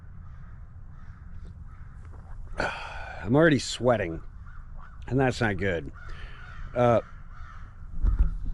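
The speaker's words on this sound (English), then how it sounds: "Birds of carrion." Several crows caw in short harsh bursts at close range, calling in separate groups of repeated caws, while someone talks briefly in between.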